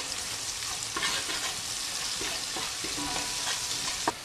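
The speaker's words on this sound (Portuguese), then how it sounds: "deixa dourar bem o alho com sal" Garlic and salt fry in a pan in a steady, close sizzle with a few soft stirring scrapes and clicks over its four seconds, and no one speaks.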